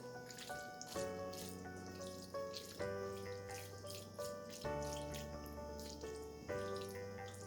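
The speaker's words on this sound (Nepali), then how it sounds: "मैले राखेँ यसमा थोरै पानी" Water pours from a tap or jug into a simmering mushroom curry in a home kitchen, a soft steady trickle with faint splashes and no talk.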